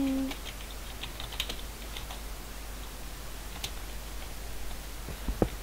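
Keys tapped on a computer keyboard while a chat message is written during a Minecraft-style game session, a steady run of light clicks at close range with a couple of sharper taps near the end and no speech.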